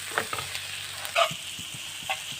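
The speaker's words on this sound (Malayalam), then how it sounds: "ഇതിൻ്റെ അകത്തേക്ക് നമുക്ക് കുറച്ച് മഞ്ഞൾപ്പൊടി കൂടി ഇട്ട് ഇതെല്ലാം നന്നായിട്ട് മിക്സ് ചെയ്ത് എടുക്കാം" A spoon scrapes and taps as snake gourd is stirred with turmeric powder in a pan for a Kerala theeyal, giving soft, scattered strokes with a faint sizzle beneath.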